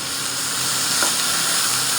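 Food cooks in a pan on a home stove with a steady close sizzle and hiss, broken by a faint scrape or stir near the middle, and no one speaks.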